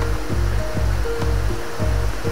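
Water rushing steadily over a rocky drop at a jungle waterfall in the Konkan hills near Hindale, Devgad, a close, continuous broadband roar with no voices.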